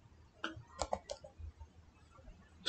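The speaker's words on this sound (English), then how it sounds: "Type troubleshoot" A few sparse keystrokes tapped on a computer keyboard at a Windows PC, quiet irregular clicks with gaps between them and no talking.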